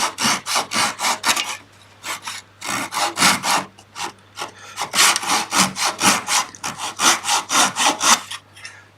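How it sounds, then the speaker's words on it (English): A Japanese flat saw trims excess wood off a dovetail box, making close, rhythmic rasping strokes in quick runs with short pauses between them. "from Japanese Tools, I've got this flat saw, and it's just a matter of trimming off the excess."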